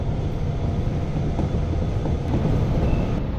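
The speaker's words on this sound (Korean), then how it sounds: "열차는 어느새 이천을 지나고 쌀이 맛있기로 유명한 여주 들판을 지나갑니다." A passenger train runs steadily through open farmland fields in Yeoju, heard from inside as a continuous low rumble and rolling track noise with no talking.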